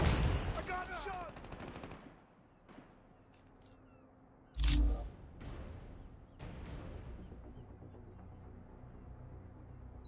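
Gunfire from the mobile shooter Call of Duty Mobile, with rapid bursts of shots up close, a heavy blast midway and scattered later shots, under game voice lines and a player's speech.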